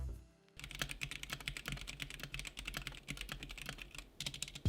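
Fast, steady typing on a GamaKay K61 60% hot-swap mechanical keyboard with Gateron Yellow switches and double-shot ABS keycaps, a dense run of close, crisp keystrokes after a brief quiet start, with no voices.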